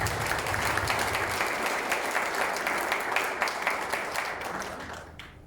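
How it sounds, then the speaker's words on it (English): An audience at a taekwondo belt presentation ceremony claps for a singer with dense, steady applause that carries on evenly and then tapers off toward the end. "Another round of applause for Esther Kim,"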